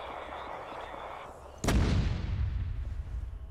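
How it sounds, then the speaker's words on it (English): A mortar round fired in a military video game: a sudden heavy boom cracks out of a quieter background and rolls into a long, rumbling decay. "we're mortaring their previous position"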